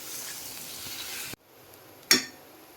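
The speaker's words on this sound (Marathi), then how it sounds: "तर बटाटा टाकून घ्या. एक जीव करून घ्या परतून." Potatoes sautéed in a pan for a home-cooked vegetable dish give a steady soft sizzle, then it cuts out abruptly and a brief sharp scrape or clink of a spoon against the pan rises out of near silence.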